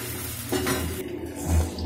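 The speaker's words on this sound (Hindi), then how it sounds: "ये मैंने हरी मिर्च भी काट कर डाल दी है और इसको अच्छे से चला रही हूँ गाइस" Chopped green chillies and onion sizzle in a pan while being stirred, with continuous frying hiss and scraping stir strokes close up; no talking.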